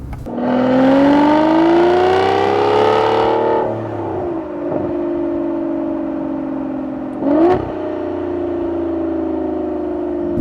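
A 2015 Aston Martin Rapide S V12 engine revs hard through its exhaust, climbing in pitch for a few seconds, then drops back to a steady idle with a brief second blip.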